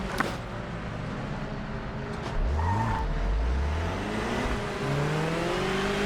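Race car engine in the Project Motor Racing video game on PS5, its pitch climbing and dropping through gear changes as the car accelerates, loud and continuous with no talk over it.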